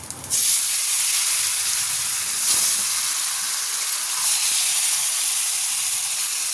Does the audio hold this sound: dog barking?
no